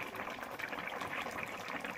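Tilapia fish curry with mustard paste boiling in a pot, a steady, dense bubbling simmer that holds evenly throughout without pause.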